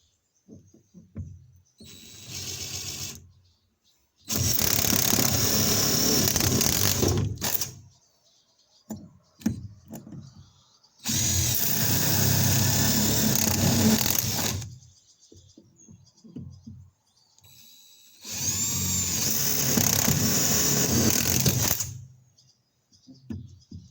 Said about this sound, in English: using a butterfly bit and a jigsaw to cut out the circle